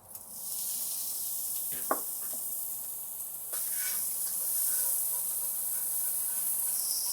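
Scallions sizzle in a pan alongside a saucy tofu ramen sauce, producing a steady, moderate hiss with a couple of brief utensil clicks and a slight swell midway.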